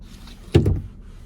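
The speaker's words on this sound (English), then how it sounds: "sliding rear window" A single short slide and thunk of a manual sliding rear window on a 2024 Nissan Frontier PRO-4X pickup, close and brief against a quiet cabin.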